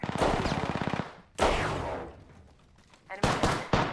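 Automatic weapon fire in the video game Apex Legends, a loud rapid burst followed by further bursts and single shots with pauses between, up close and punchy.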